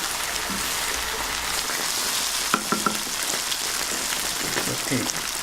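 Beaten egg seasoned with salt and pepper fries in butter with wild mushrooms, a dense, steady sizzle like rain on a surface, with a few soft scrapes and taps as the edges are turned in the pan.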